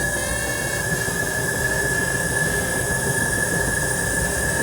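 A loud commercial laundromat machine runs steadily with a continuous broadband roar and a high, sustained whine, with no talking over it.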